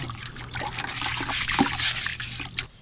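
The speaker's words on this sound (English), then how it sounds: "It feels good to get some concrete poured" Wet concrete pours and slides out on a job site after a week of rain, a steady trickling, sloshing wash with small splashes, close and moderately loud.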